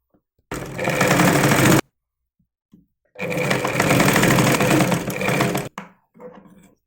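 A sewing machine stitching the shoulder seam of a saree blouse runs in two loud, close bursts of steady whirring, the first about a second long and the second nearly three seconds, with short pauses between.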